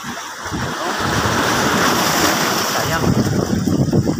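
Ocean waves at the shore rush in a steady, loud wash, with surging swells and rough wind-like roar throughout, no speech heard.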